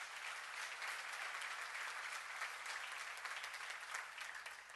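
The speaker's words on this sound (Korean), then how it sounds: "박수를 하나 주세요" Audience applause in a church during a Psalms sermon, a steady wash of many clapping hands, fairly distant and even throughout, easing slightly at the end.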